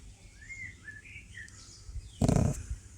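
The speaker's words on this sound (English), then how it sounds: "The birds, oh, it's beautiful." A few short, faint bird whistles and chirps trill in the background against a quiet outdoor hush on a limekiln nature walk, followed by a brief louder rustle.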